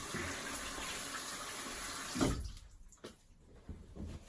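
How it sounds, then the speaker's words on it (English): Running tap water splashing into a sink as a hand is rinsed during a wet shave, a steady broadband wash for about two seconds that cuts off, followed by a few faint drips and small splashes. "I'm just gonna rinse my hand."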